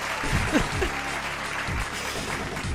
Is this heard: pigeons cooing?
no